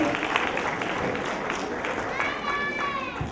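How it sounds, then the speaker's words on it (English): Applause from a crowd at a playschool celebration day, a continuous wash of clapping with voices and a child's high cry mixed in, staying loud from start to end. "One more round of applause to all the participants."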